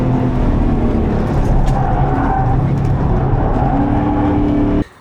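A Porsche 928 lapping the Nürburgring roars loud and close with a sustained engine drone and shifting pitch, then cuts off abruptly at the very end.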